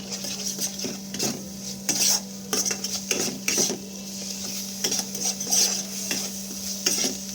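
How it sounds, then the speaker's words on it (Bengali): Ginger-garlic paste and spices being stirred in a pan with a little oil, with repeated scraping strokes of a spoon against metal over a low steady sizzle, close by and without any talking. "সব কিছু ভালো করে একসাথে আমি মিশিয়ে নেব"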